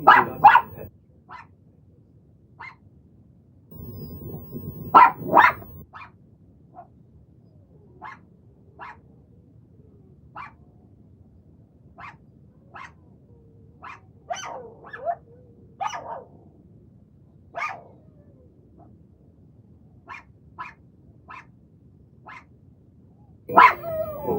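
Dogs barking in short, scattered yips and barks over about twenty-five seconds, some louder bursts near the start and end, with occasional whiny attempts at a howl between quieter pauses.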